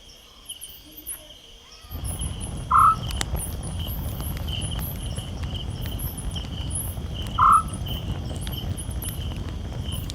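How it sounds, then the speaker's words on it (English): Night in the bush at Tsendze camp in Kruger: after a quiet opening, a dense, continuous chorus of insects swells in and holds steady, with two brief higher calls cutting through it. "At night, Tsendze comes alive with the sound of the resident Skops owls and even the occasional hyena, lion or hippo call."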